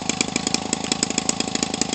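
Homelite 25cc RC model airplane engine running fast with a hotter aftermarket ignition coil, a steady buzzy two-stroke drone with rapid regular firing pulses, close and loud with no voices.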